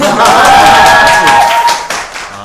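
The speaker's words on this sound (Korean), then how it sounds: "박수 한번 주시죠" A studio audience breaks into brief applause, a burst of clapping that rises quickly and tapers off within a couple of seconds, overlapping with a speaking voice.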